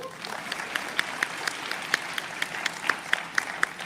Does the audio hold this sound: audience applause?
yes